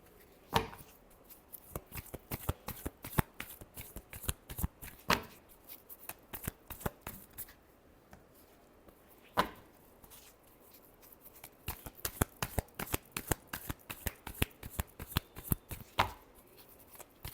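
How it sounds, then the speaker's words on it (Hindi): A deck of tarot cards is shuffled over and over, producing close, crisp riffling bursts and sharp slaps in irregular clusters separated by short quiet gaps, with no talking. "मैं कार्ड शफल करती हूँ।"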